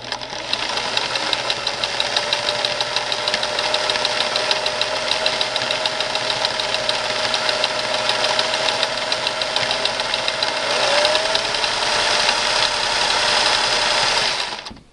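A Singer 99 sewing machine run by a clam-shaped foot pedal gives a steady, close, continuous mechanical whir and rapid needle clatter for the full length, with no one talking.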